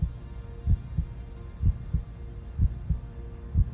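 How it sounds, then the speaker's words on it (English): A strong human heartbeat heard up close, as if with an ear pressed to the chest: paired low thumps repeating steadily about once per second, with no other sound. "It was a nice, strong heartbeat"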